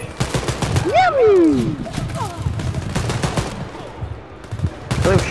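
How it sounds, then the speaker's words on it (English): Repeated bursts of gunfire in the video game Wolfenstein Youngblood, rapid shots crackling under a wailing sweep of other game sounds, with more shooting returning near the end. "I was shooting the back of your head."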